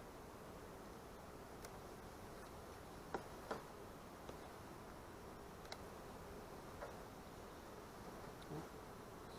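Honeybees at a backyard hive give a faint, steady buzzing hum with a few soft ticks and clicks on top, low and even throughout, with no voices.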